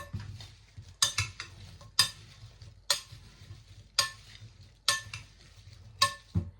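Plain flour being stirred into an apple crumble filling in a bowl: a run of sharp, close spoon scrapes and clinks roughly once a second, each followed by soft rustling of the mixture, with no talking.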